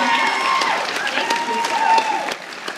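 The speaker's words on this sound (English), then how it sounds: "I think that deserves a round of applause." Crowd applause at a rodeo association charity event, steady dense clapping throughout with some murmured voices mixed in, tapering slightly near the end.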